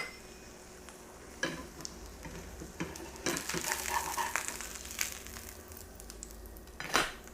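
A corn quesadilla with cheese and a mayonnaise-coated outside crisps in a pan, giving a soft steady sizzle with scattered crackles and a few sharper pops and scrapes, close by with no talk.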